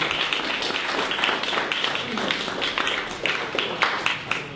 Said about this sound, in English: let's give one more round of applause for Jacob